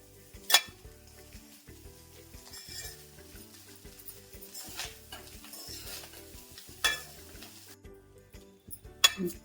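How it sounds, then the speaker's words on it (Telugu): Chicken egg fried rice with vegetables is stir-fried over high heat: a spatula scrapes and clinks against the pan in scattered bursts over a low sizzle, close up, with a few sharp metallic knocks and no voices. "ఇవన్నీ బాగా పట్టేలాగా హైలో పెట్టి బాగా వేపుకోవాలి."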